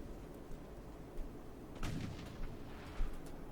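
Battleship guns fire in the naval game Ultimate Admiral: Dreadnoughts, a few distant muffled booms scattered over low rumbling background, with a stronger thud near the end.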